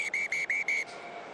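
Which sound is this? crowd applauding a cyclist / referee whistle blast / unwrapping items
referee whistle blast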